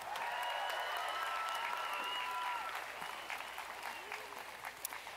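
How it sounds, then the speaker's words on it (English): Sustained applause from a graduation ceremony crowd, dense steady clapping that fills the space and slowly thins toward the end, with faint voices mixed in. "One more round of applause."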